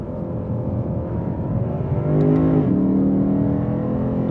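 A Lexus RC F engine revs steadily close by, its tone rising and dipping through gear shifts with a sustained, loud drone and no talking.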